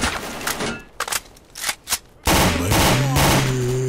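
Machine gun fire in the video game STALKER: several short, clipped bursts of rapid shots, then a louder, sustained stretch of gunfire and combat noise, with no talking.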